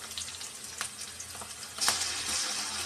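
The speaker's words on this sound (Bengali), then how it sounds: "এটা এখন ভালো করে নেড়ে চেড়ে ভেজে নিব" Sliced onions and green chillies sizzle in a pan, a steady close hiss with a few brief stirring scrapes and a slightly louder burst near the end, no talking.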